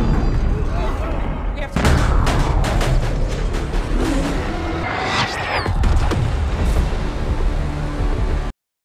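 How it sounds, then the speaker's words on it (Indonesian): Dense barrage of booming cannon fire and fighter jet attacks with crackling gunfire, loud and continuous, with sharp impacts scattered throughout and a brief lull near the start. "Meriam-meriam telah ditembakkan, bahkan pesawat tempur telah melakukan penggempuran."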